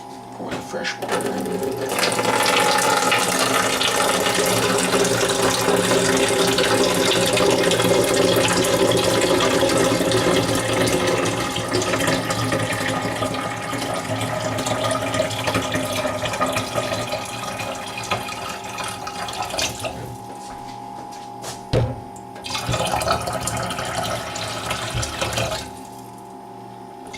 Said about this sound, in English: Pour in fresh water.